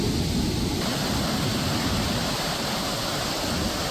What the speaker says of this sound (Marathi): धरणाचे सर्वच्या सर्व 27 दरवाजे उघडण्यात आलेत।